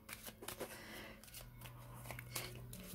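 A deck of tarot cards is shuffled close by in a quiet room: quick riffling, flicking bursts and soft card slaps over a few seconds, with a faint low hum underneath.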